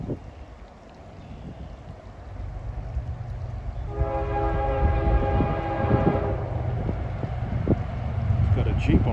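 CSX freight train Q162 loaded with marine containers rolls past on the Mohawk Subdivision, its horn sounding in long blasts over a steady rumble of wheels and cars, fairly loud and close.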